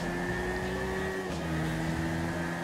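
GTR race car engine in GTA 5, a close, loud, steady revving drone with tonal engine whine that shifts pitch slightly as it accelerates, with no talk.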